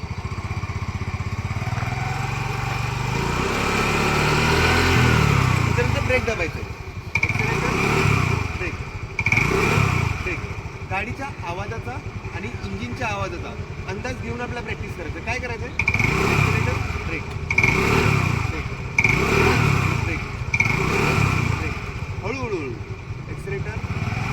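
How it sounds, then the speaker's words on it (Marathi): A scooter's small engine runs after being started, a steady idling drone with periodic swells in loudness, while a person talks over it throughout. "गाडीचं स्टार्टर दिल्यानंतर माझी गाडी स्टार्ट झालेली आहे तुम्ही आवाजावर बघू शकता"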